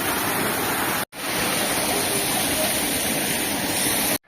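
The Kapil Dhara waterfall rushes in a dense, continuous roar of falling water, loud and close, with one brief cut-out near the start and another at the very end.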